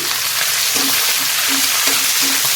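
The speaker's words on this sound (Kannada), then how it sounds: "ಇದು ಈಗ ಎಣ್ಣೆಯಲ್ಲಿ ಫ್ರೈ ಆಗಿದೆ ಇಲ್ಲಿ ನೋಡಿ ನಾನು ಕಾಯಿಮೆಣಸು ಕೊತ್ತಂಬರಿ ಸೊಪ್ಪು ಪುದೀನ ಒಟ್ಟಿಗೆ ಹಾಕ್ತಾ ಇದ್ದೀನಿ" Green chillies, coriander leaves and mint sizzle and fry together in hot oil, a steady close hiss with faint stirring scrapes and no talk.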